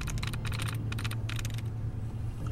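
Bursts of rapid clacking keystrokes on a computer terminal in the video game Fallout 4 repeat in quick clusters over a steady low hum, loud and close, with no speech.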